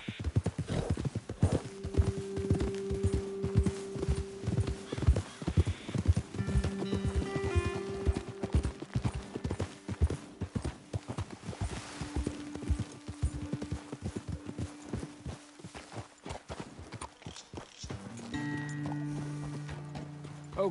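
Horses in a PS4 video game trot and gallop with a brisk, steady clip-clop of hooves, loud and close, a brief whinny mixed in and tonal game music swelling underneath.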